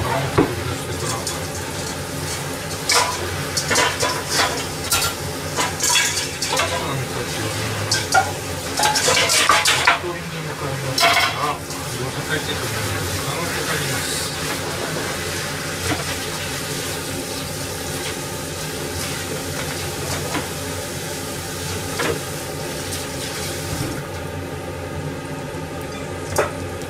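Food frying in hot oil for gyoza in a home kitchen, a constant soft sizzle under clattering pans, utensils and stirring, with busier clanks early and a steadier hiss later.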